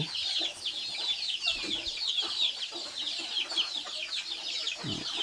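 A group of chickens in a rural yard clucking and squawking continuously nearby, busy overlapping calls with a low thump near the end.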